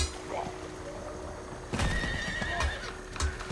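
Horse in the Diablo 4 video game plodding through a swamp, with soft splashing hoof clops, a whinny and a few sharp game effects over a quiet watery background.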